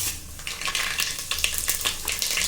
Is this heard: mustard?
yes